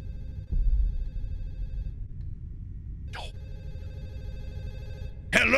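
A telephone rings in the horror video game Fatal Midnight: two long bursts of trilling ring separated by a pause, heard clearly over a low, dark ambient rumble, with a sharp noisy hit at the end.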